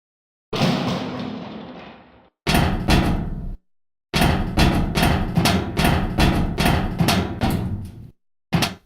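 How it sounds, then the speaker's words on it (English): A heavy door opens in The Stanley Parable video game with a long grinding swell, then a run of loud, rhythmic mechanical clanks and a final thud, heard alone with no voices. "As he stepped through the door into the fresh outside air"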